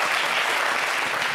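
A studio audience on a live sports talk show about an Africa Cup of Nations match claps loudly to welcome the day's consultants, in a short, dense, even burst of applause.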